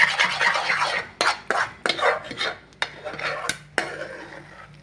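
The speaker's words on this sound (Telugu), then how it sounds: "కలుపుతూనే ఉండాలి దీనికి అసలు రెస్ట్ ఇవ్వకూడదు" Egg halwa stirred continuously in a pan, a spoon scraping and clacking against the metal in quick, irregular strokes with sharp knocks, close and fairly loud with no talk.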